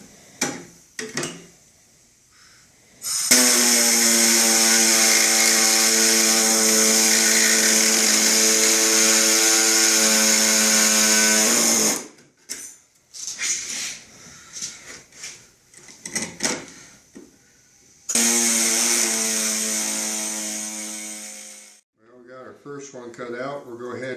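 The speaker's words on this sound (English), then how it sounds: "We're going to use our air hacksaw here and see how this works." An air hacksaw cutting with a loud, steady buzzing rasp in two long runs separated by a pause with brief clatter and handling noise, close up while building a power management unit.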